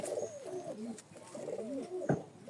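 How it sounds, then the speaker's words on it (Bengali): Kasuri pigeons coo softly in a pigeon loft, with two rolling, throaty coo phrases in succession, fairly close but quiet, and a brief wing flutter or knock near the end. "এটা হচ্ছে কাসুরি কবুতর"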